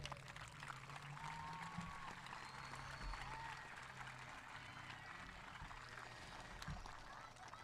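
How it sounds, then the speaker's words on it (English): An audience at a middle school eighth-grade recognition night applauds, a faint, distant-sounding patter of clapping that continues evenly throughout, with low rumbling in the background. "Give yourselves a huge round of applause"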